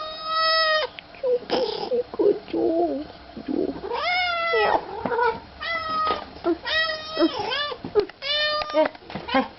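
A cat meets its owner after a long time apart, meowing loudly and repeatedly in long, drawn-out cries that sound almost like a baby crying, close to the microphone.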